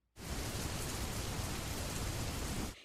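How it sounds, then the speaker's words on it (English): Steady gentle rain from a background noise app, a continuous even hiss of falling drops that starts abruptly and holds at a soft, uniform level for a few seconds before cutting off, with no voices. "or listening to the sound of gentle rain."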